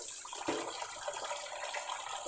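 Water pours steadily onto rice in a pot while cooking, a continuous close splashing hiss with no talk over it.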